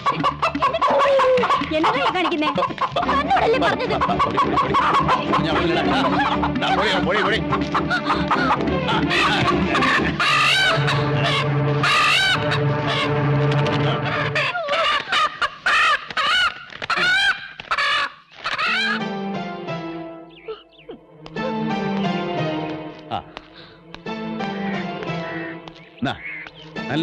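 Chickens clucking and squawking, loud and frequent, heard under and between people talking and shouting.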